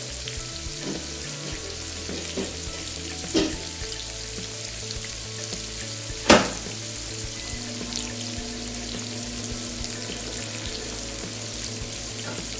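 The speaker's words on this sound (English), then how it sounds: "Occasionally going back to those potatoes. And stirring those potatoes." Steady sizzling of potatoes frying in a pan, with a couple of sharp scraping clinks as they are stirred; no talking.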